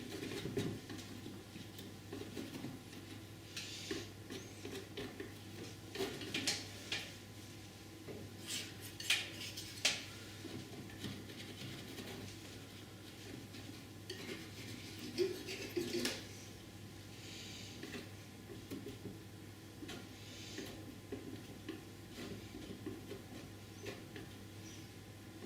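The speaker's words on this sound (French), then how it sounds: "Je frotte délicatement la toile." Soft scraping and rubbing of a painting knife drawn gently across canvas, faint intermittent strokes and light taps in a quiet room.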